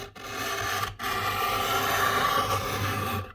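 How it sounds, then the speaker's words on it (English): A hand scraper rasps steadily across an antique radio's wooden cabinet, stripping the old finish in long continuous strokes with a brief pause near the start, close and loud with no talking. "scrape the old finish off."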